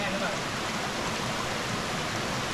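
A small waterfall in the forest at Saladai, Nakhon Nayok, pours out a steady, even rush of broadband water noise, with light drizzle falling and no break in the sound.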